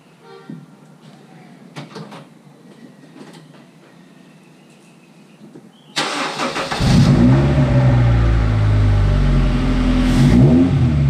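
A Honda car fitted with a cold air pod intake and a wet air cleaner sits quiet with a few faint clicks. Its engine then cranks and fires up around the midpoint into a loud, steady, close idle roar.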